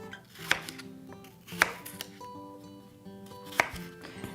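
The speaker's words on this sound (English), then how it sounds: "I'm just going to cut it up into a couple big pieces," A knife cuts a fresh cored apple into a few big pieces, with three sharp, separate knocks on a cutting board amid quiet kitchen background, close by and without speech.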